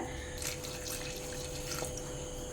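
A quarter cup of water pours and splashes into a pan for melting jaggery, a light, steady trickle and a few faint drips, close by and fairly quiet.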